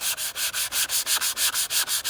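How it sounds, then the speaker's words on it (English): Steady back-and-forth strokes of 180-grit sandpaper rubbing a car headlight lens, about a dozen even rasping passes in a quick regular rhythm, close and clear with no talk. "I'm using the 180 grit right now. Just sanding it down big time."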